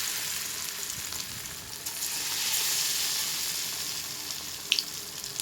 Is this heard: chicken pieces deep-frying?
yes